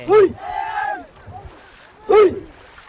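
Thai longboat oarsmen training on the water, a loud group chant bursting out twice with a sustained call between, voices shouting in rhythm over faint water noise.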